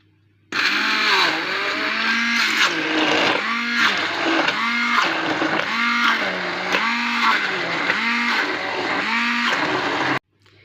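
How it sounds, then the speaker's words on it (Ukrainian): A hand blender whirs loudly and steadily, its motor pulsing in regular surges about once a second as it purees pumpkin and meat for baby food, then cuts off abruptly. "І я буду збивати це ручним блендером"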